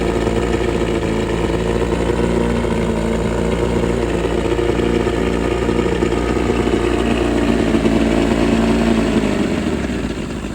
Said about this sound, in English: The engine starts right up and shifts into gear.